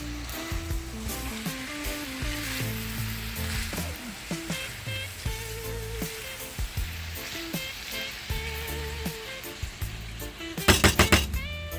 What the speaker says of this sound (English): I'm gonna finish frying my dumpling